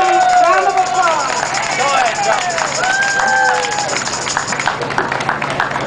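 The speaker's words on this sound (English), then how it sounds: "Give him a round of applause." A dense crowd at a 2009 single-payer health care protest rally in Philadelphia claps and cheers steadily through the whole stretch, with voices and shouts mixed into the noise.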